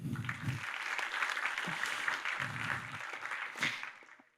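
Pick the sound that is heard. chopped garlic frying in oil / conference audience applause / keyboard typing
conference audience applause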